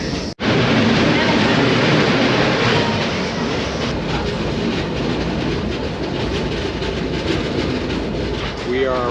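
A train pulls into Devil's Throat Station at Iguazu Falls with a loud, steady rumble and rushing wind noise, faint clatter underneath and a brief squeal near the end.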